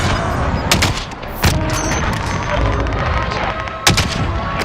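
Gunfire in Call of Duty: Warzone, several sharp shots and bursts cracking out at irregular intervals over a continuous noisy game background.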